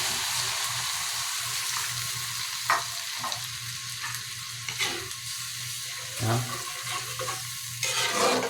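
Hot garlic butter and egg sizzle steadily in a frying pan while a utensil stirs and scrapes, with bursts of louder hissing as water hits the heat.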